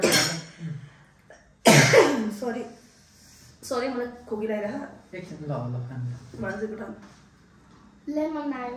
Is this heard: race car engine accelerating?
no